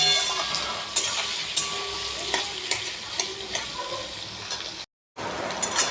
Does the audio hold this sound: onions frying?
yes